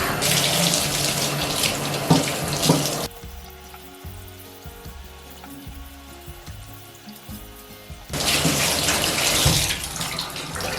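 Tap water runs loudly into a sink as a shirt is saturated for bleach tie-dye, pausing for several seconds between two steady bursts of flow.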